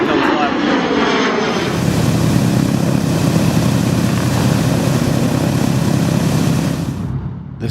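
Boeing B-17 bomber Liberty Belle in flight, its four radial piston engines and propellers roaring in a loud, steady, close drone that holds throughout before easing slightly at the end.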